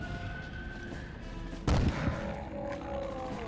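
A sudden loud burst of gunfire in the survival horror video game Obscure, a sharp boom around the midpoint trailing into a brief echo over steady background game ambience.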